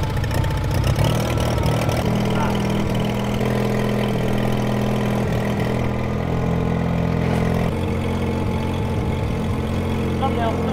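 A Mazda RX-7 engine, fitted with new turbos, idles steadily and loudly close by after starting, with a low rumbling hum throughout, while people talk over it.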